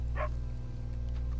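A single short dog bark sounds in Red Dead Redemption 2, a quick yip over a steady low hum of game ambience, with no talking.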